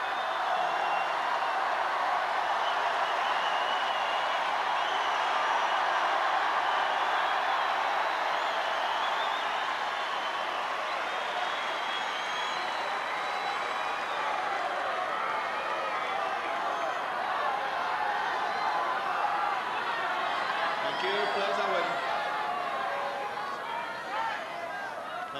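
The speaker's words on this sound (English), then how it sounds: "let's just listen to this crowd and their reaction now" Spectators at a men's tennis final between Ivanisevic and Rafter raise a sustained, roaring wall of cheering and applause. The noise stays loud and even for about twenty-five seconds, easing only slightly near the end.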